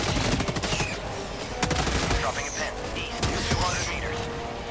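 Rapid gunfire bursts and scattered shots from the video game Helldivers 2, loud and dense with explosive cracks, mixed with game effects and some voice activity.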